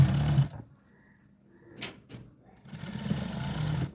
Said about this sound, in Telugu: నెక్ చుట్టూతో స్టిచ్చింగ్ అయితే వేసుకురండి